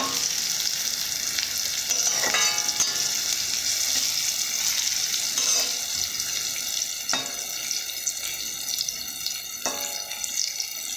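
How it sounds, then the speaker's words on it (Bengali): Bitter gourd fries in a pan with a continuous bright sizzle, broken now and then by a few sharp scraping stirs. "উচ্চগুলোকে ভালো করে একদম ভেজে নেবে"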